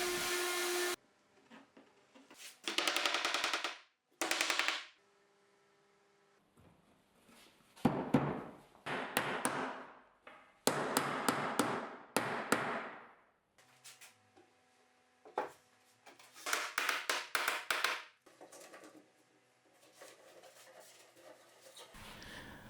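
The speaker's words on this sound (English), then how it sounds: "Using some more biscuits and clamps, I'm going to put together the four parts that make up the frame of the unit." Woodworking shop sounds while a wooden bathroom vanity frame is assembled with biscuits and clamps: bursts of power-tool whirring and clattering wood separated by quiet gaps, with knocks and handling noises, no speech.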